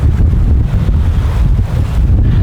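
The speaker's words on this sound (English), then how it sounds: "Quite windy as well, as you might notice." Strong wind buffets the microphone at a lakeside carp fishing spot, a steady loud low roar with gusty surges throughout and no talking.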